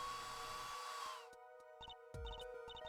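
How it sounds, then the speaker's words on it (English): A hair dryer blasts plaster in the Apollo Justice: Ace Attorney video game, a steady whirring roar for about a second that cuts off, followed by short electronic game blips and tones. "Just press A to blast with that dryer."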